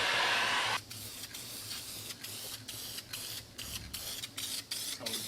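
Aerosol can spraying black paint onto a car's hood latch bracket: one long close hiss, then a series of short rhythmic spray bursts with brief gaps between them.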